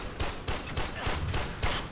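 Rapid automatic gunfire in the video game Warframe, a steady fast stream of loud, close shots filling the whole moment with no talk.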